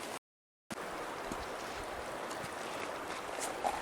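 The low Bitterroot River near Sleeping Child Creek flows steadily in a broad, close rushing wash of water, continuous and fairly loud after a brief dropout at the start.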